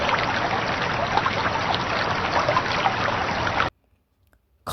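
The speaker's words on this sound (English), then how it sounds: "and a river effect." Unused river ambience from the game Big Rigs: Over the Road Racing: a continuous rushing, trickling water noise with slight bubbling texture that runs steadily for several seconds, then stops dead into silence.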